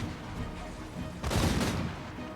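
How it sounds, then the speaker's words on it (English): Hellstorm rocket batteries fire in a Total War Warhammer battle, a rough barrage of booming blasts and crackling bursts with one louder volley in the middle over continuous battle noise. "these Hellstorm rockets are pretty deadly"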